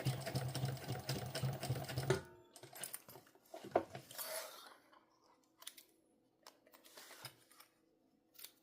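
A sewing machine stitches through thick layers of cotton canvas and waterproof canvas for a sling pouch, making a brief rapid whirring run that stops after about two seconds, followed by quiet clicks and handling noises.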